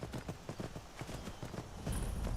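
Horse hooves clip-clop in a steady trotting rhythm in Skyrim, close and fairly loud, alone without talk, with a brief rise in noise near the end.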